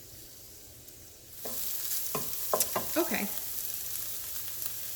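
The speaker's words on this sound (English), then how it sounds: "I really do want to saute the kimchi and the rest of the ingredients well" Kimchi and other ingredients sizzle as they are sautéed in a pan, with quiet frying hiss joined by a few sharp stirring scrapes midway; one brief spoken word.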